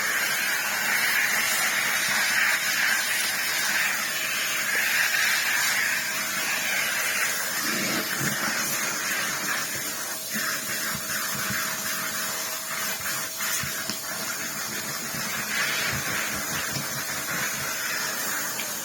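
Beldray Airgility 22v cordless vacuum cleaner pulling air through its combination tool, a steady loud hiss with an airy whine that holds throughout, alone without talk.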